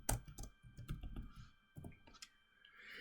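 Clicky keystrokes on a computer keyboard as an SQL query is entered, arriving in quick irregular bursts with short pauses between them, close and fairly loud with no talking.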